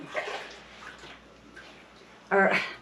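Water is poured onto potting soil in a bag for planting potatoes indoors, first as a faint trickle under a speaking voice and then as a brief louder splashing pour near the end.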